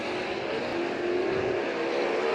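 Sprint cars roar around a dirt track in a UMSS race at St. Croix Valley Raceway, a steady, loud engine drone with a rising tonal whine, no voices.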